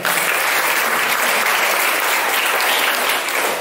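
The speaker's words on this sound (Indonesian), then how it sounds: "Tepuk tangan kita." An audience at a youth political school session in Tegal applauds, a loud, dense, even wash of clapping that holds steady for a few seconds.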